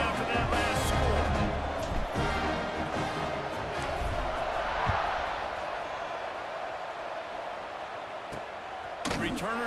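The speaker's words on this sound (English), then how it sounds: "this crowd is buzzing after that last score" A stadium crowd buzzes steadily in an American football video game after a score, a dense roar of many voices filling the background under a play-by-play commentator.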